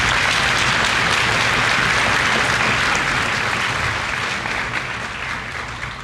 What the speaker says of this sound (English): Let's give them a round of applause for that.